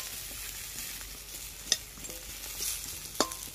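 Fish sizzles in a frying pan with a soft continuous hiss, broken by two sharp clinks or scrapes, likely a utensil against the pan, heard up close with no talking.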